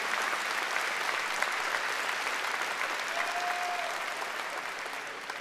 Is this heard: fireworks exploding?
no